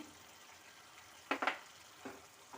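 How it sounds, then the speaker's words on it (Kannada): Masala frying in oil in a pan for a chana and egg gravy, with red chilli powder added: a low, quiet sizzle with a couple of brief stirring scrapes near the middle and another soft scrape toward the end. "ಇದು ಈಗ ಚೆನ್ನಾಗಿ ಫ್ರೈ ಆಗಿದೆ ನೋಡಿ ಎಣ್ಣೆ ಕೂಡ ಬಿಟ್ಟಿದೆ"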